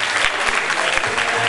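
Loud, sustained applause from a crowd at a Turkish school awards ceremony in Sultangazi, a thick unbroken roar of clapping greeting a student recipient, with a faint voice briefly underneath.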